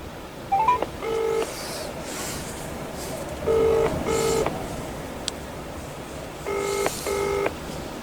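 Phone keypad dialing tones on a farm while calling about a baler, with three paired bursts of beeping tones spread across the clip against quiet background hiss.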